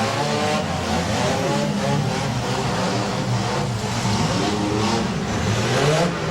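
A demolition derby car at a county fairground derby revs its engine loudly and steadily for the whole stretch, a rough continuous roar with rising and falling throttle and no talk over it.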